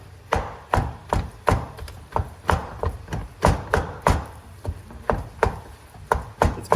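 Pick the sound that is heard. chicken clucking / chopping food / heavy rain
chopping food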